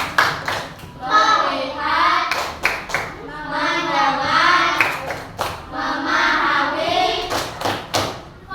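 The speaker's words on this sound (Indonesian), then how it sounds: "Tepuk fokus." Elementary schoolchildren in a classroom perform a rhythmic group focus clap, with sharp sets of claps in a patterned beat between chanted lines spoken in unison.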